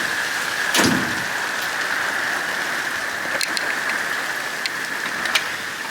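Heavy hurricane rain pouring down behind a double-wide mobile home, a steady dense hiss of drops on surfaces with a few sharper splashes and knocks scattered through it.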